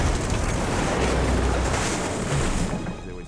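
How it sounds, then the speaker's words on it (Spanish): Huge waves pound the side of a boat at sea, a loud, continuous roaring wash of water and wind noise that swells and churns without a break, close and overwhelming. "Las enormes olas están azotando el lateral del barco."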